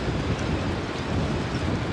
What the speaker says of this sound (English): I wasn't expecting it to be so damn windy.